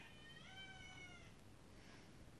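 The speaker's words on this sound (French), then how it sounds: "c'est mon chat." A house cat meows twice in quick succession close by, each call rising and falling in pitch, followed by a quieter short mew against a faint indoor room hum.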